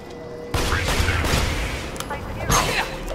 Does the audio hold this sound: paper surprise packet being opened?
no